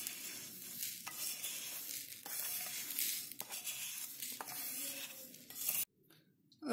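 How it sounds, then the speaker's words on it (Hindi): Sesame seeds dry-roasting in a pan for a white eggplant curry, a close, rustling crackle with scraping stirs in bursts, then cutting off abruptly near the end. "सेम पैन यूज करेंगे, तिल को सेक लेंगे।"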